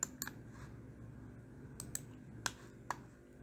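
A computer mouse clicking while points are placed on a QGIS map, a handful of sharp, quiet, close clicks at irregular intervals over faint background hum.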